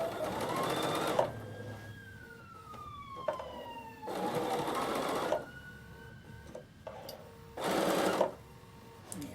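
A Bernina sewing machine top stitching a binding runs in three loud, steady bursts with quiet pauses between them, close up.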